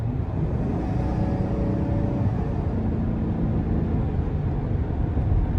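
A 2024 GMC Sierra 1500 SLT X31 with a 5.3 V8 and a ten-speed gearbox accelerates under light throttle, heard from inside the cab as a loud, steady low engine drone with road rumble and no talking.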